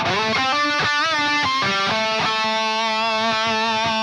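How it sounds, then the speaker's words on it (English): A distorted electric guitar solo runs through a Soundtoys Microshift chorus, doubler and detune effect, loud and continuous, with a quick melodic run of notes sounding wide and shimmering. "there's kind of a chorus, kind of doubler, kind of detune kind of effect on there"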